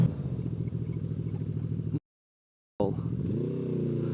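A QJmotor SRV 600 motorcycle accelerating hard, its engine note rising through the gears with a sharp break at a gear change before revving up again. The engine is loud and close, with no talk.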